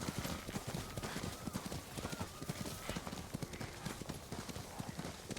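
A horse gallops in the video game Ghost of Tsushima, a fast rhythmic run of hoofbeats, close and steady throughout, with faint background game sound.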